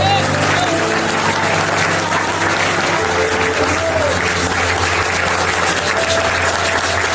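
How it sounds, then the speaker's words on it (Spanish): A church congregation applauds loudly and continuously during a Spanish-language worship testimony. Dense clapping fills the room for about seven seconds, with voices calling out and a sustained musical tone beneath. "Denle un aplauso al Señor"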